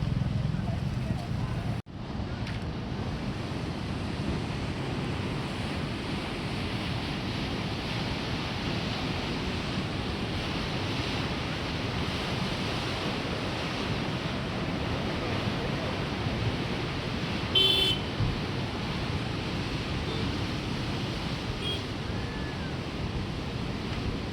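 A constant broadband roar of a flooded river rushing fast and carrying wood, close and steady, with a brief thump near the start.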